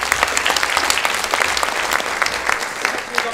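An audience applauds a speaker at a memory-training talk, dense steady clapping from many hands close by, sustained throughout without letup.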